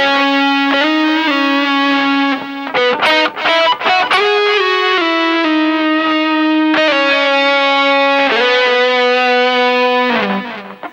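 A heavily overdriven electric guitar carries a sustained lead melody with slides and a few quick picked notes, loud and up front, with no voice over it.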